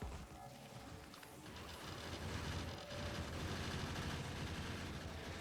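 Turrets firing in a Factorio deathworld marathon game, a dense rapid rattle of automatic gunfire that runs steadily throughout at moderate loudness with no talk over it.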